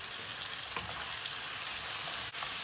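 Onions and peeled tomatoes sizzle in a pan with a bay leaf, a steady bright frying hiss with faint crackles and a brief stir near the end, close and even, no talk.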